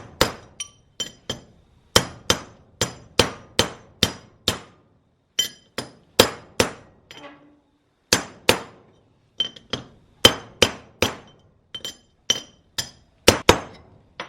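Steel hammer blows strike an old bearing race set against a new wheel hub bearing race on an HJ47 hub. Close, sharp metallic clinks come in irregular bursts of several strikes with short pauses between them, and no one speaks.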